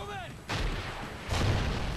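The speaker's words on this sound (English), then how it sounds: "I'm getting shot at" Gunfire bursts from a Call of Duty Ghosts multiplayer match: two loud, booming blasts with long rumbling tails, the first preceded by a brief rising whistle-like tone, fairly close and dominant.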